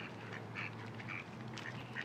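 Ducks at a park quacking several times in short bursts while being fed, fairly close, over a steady low background hum.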